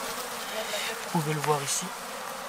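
Honeybees buzz on a brood frame lifted from a ten-frame hive, a close, continuous drone with a few louder passes near the ear while a person speaks briefly over it.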